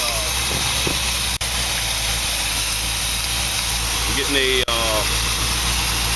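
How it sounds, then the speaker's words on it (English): A carbureted engine with a rough miss from burnt spark plug wires idles steadily, a loud, constant hissing rumble filling the whole stretch while a person talks over it. "So I'm gonna rebuild this carburetor, but at least it's starting right up and running."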